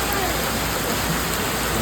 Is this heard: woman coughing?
no